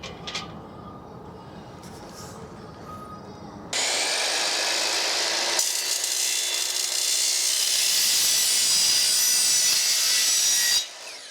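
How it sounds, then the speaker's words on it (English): A miter saw slices through wooden trim on a 45-degree cut, with a loud, steady high-pitched whine running for about seven seconds after a brief lead-in of quieter handling noise, then stopping abruptly. "Use the miter, 45 degrees."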